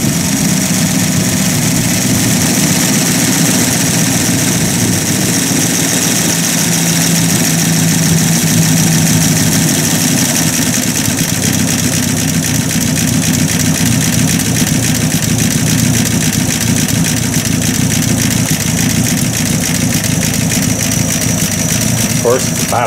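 Buick Roadmaster engine idling steadily with a worn, sticky throttle dashpot, a continuous close rumbling drone with a faint whine on top, unchanging throughout.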